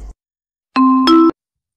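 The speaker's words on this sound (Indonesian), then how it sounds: "suara bel menandakan jam pertama sudah dimulai" A two-tone ding-dong school bell marks the start of the first lesson, a single clear, loud chime pair ringing alone against silence.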